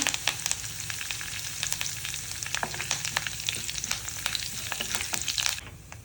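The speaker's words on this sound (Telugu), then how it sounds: "మినపప్పు ఇవి కొంచెం ఫ్రై అవ్వాలి" Urad dal with cumin seeds frying in a pan gives a steady, moderate sizzle with light crackles and occasional stirring scrapes, fading near the end, with no voices.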